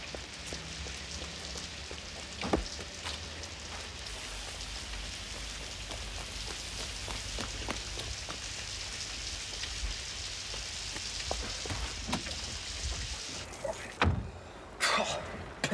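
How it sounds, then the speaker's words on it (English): Heavy rain pours down in a steady, dense hiss with scattered drips and taps, followed near the end by a few sharper knocks like a car door. "Pissing rain must be coming from Soviet Russia."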